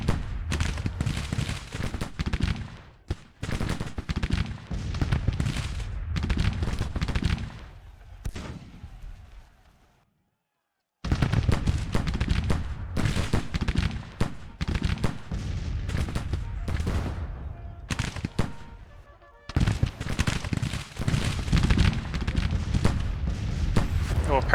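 Cannon and gunfire crackle through a Grand Tactician: The Civil War battle, dense irregular volleys and booms rolling almost continuously with a short lull, while someone talks over it.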